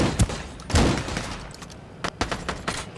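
Shotgun blasts in the online shooter Ring of Elysium, several sharp, loud booms in quick succession, with a scattering of distant gunfire between them.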